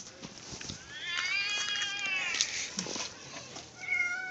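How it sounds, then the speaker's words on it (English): Small kitten meowing, set off by a cat sound app: a run of whiny, rising mews in close succession, fairly close and moderately loud, then a brief pause and one more short mew near the end. "This is the mini whiny baby kitten."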